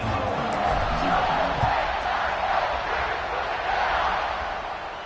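A home crowd roaring at a football game, a dense sustained cheer with shouts from a large stadium audience, fairly loud and steady, easing slightly toward the end.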